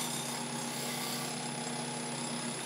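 A wood lathe spins fast while turning a 12-inch fruit bowl, giving a steady, continuous whirring drone with a constant pitch throughout and no talk.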